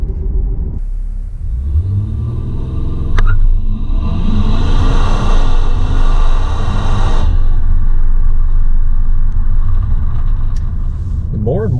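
A 2018 Infiniti Q60S all-wheel-drive coupe accelerating hard, its engine surging into a loud rising rumble from inside the cabin that then settles, with someone speaking near the end.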